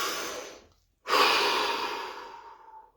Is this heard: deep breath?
yes